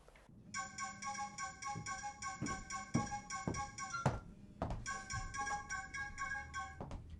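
A mobile phone rings with a bright electronic ringtone melody that plays in two bursts separated by a short gap, with a few soft taps and knocks underneath and no speech.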